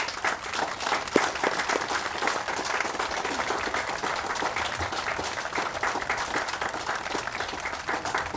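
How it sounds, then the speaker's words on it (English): An audience at a Memorial Day observance applauds veterans with steady, dense clapping that holds evenly throughout, a large crowd heard from within the hall. "Can we give those heroes a round of applause"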